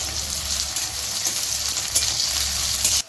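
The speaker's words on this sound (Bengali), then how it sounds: "ভালোই গরম হয়ে গেছে, পেঁয়াজগুলো আমি এখন দিয়ে দিলাম।" Sliced onions fry in hot oil in a wok, a loud, close, continuous crackling sizzle that holds steady before cutting off abruptly at the end.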